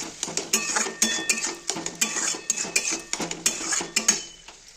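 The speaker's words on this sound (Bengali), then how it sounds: "আমি ঘি দিয়ে দিলাম, কড়াইটাকে একটু নেড়ে নেব" A karai holding cabbage fry is stirred right after ghee goes in, producing sharp, irregular metallic clanks and scrapes of a utensil against the pan, close and loud, with a light sizzle and no talking.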